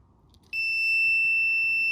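A car alarm system confirms entry into valet mode with a sudden piercing electronic tone that starts abruptly and holds steady and loud, its pitch shifting slightly partway through, after a quiet moment.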